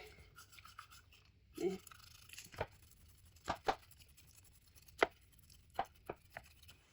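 Soft scraping and rasping strokes of boiled potatoes being grated, spaced irregularly, close by and fairly quiet, with no one talking.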